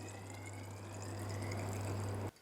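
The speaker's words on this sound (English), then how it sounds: "Okay, so I'll just pour some beer out and get a reading." Home-brewed Coopers Golden Crown lager poured out into a container for a gravity reading, a continuous close splashing stream over a low hum, stopping abruptly near the end.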